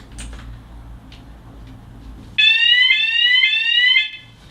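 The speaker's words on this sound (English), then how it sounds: "He's doing a test of the fire alarm in the house." An electrician tests a house fire alarm: after a quiet moment a loud, piercing, pulsing electronic beep sounds close by for about a second and a half, then cuts off.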